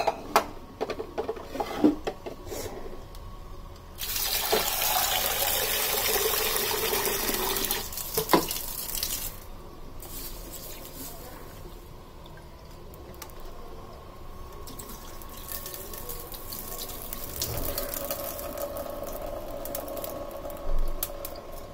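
Water runs from a kitchen tap while cooking, a steady close-up gush for a few seconds, then quieter trickling and splashing with some clinks of vessels. No one speaks.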